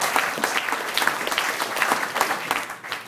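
Audience applause at a sports meeting about SEC college football teams, a dense steady burst of clapping from a crowd, loud and close, with no talk over it.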